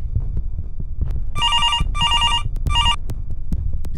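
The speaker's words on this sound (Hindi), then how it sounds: "पुलिस स्टेशन में फोन की घंटी बजती है।" A telephone bell rings in three short bursts with brief gaps at a police station, sounding clearly over a low rumbling background and scattered clicks.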